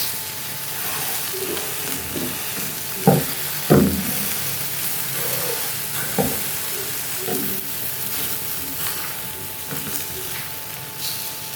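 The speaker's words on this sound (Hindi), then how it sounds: "ये देखिए, खुद ही उतरना शुरू होगी हमारी फिश जो अच्छे से फ्राई हो चुकी है।" Fish frying golden brown on a tawa, a soft steady sizzle with a few sharper clacks and scrapes as the pieces are turned, close by, no speech.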